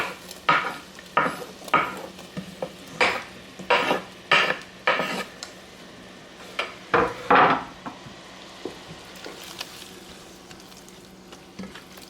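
Tomatoes go into a pot of mussels and get stirred: a series of clacking scrapes and knocks of a utensil against the pot over a faint sizzle, irregular and close, with quieter gaps.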